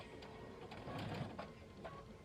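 A domestic sewing machine stitches over a thick seam with a hump jumper holding up the presser foot, giving a faint, rapid, whirring mechanical stitching sound that runs steadily.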